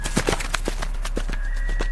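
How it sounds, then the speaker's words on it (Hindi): Horse hooves clip-clop in a steady trotting rhythm as a tonga cart carrying a coffin rolls along on a deserted night, the hoofbeats close and clear with no talk. "उस सुनसान रात को केवल घोड़े के टॉप की आवाज चीर रही थी।"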